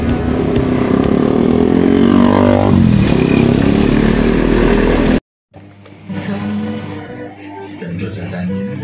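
A Honda Beat Street scooter engine runs with a steady low idle, cuts out abruptly, then restarts and keeps running, close and loud.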